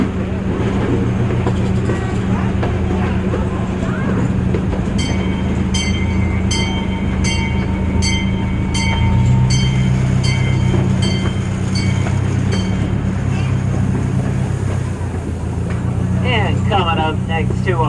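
Miniature train ride at Norfolk Zoo rumbles steadily along the track with rhythmic clicking and a high tone, while a voice talks throughout and a brief bell-like chime rings near the end.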